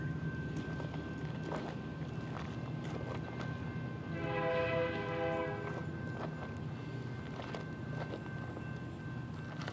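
A CP train rolls past with a steady rumble, pulling uphill in Bow Island, Alberta, and a loud horn blast sounds for about two seconds midway.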